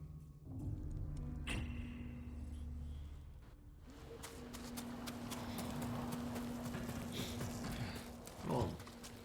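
In the video game Ghost of Tsushima, a horse gallops with quick rhythmic hoof clip-clops and thuds, fairly faint, alongside low rumbling game ambience.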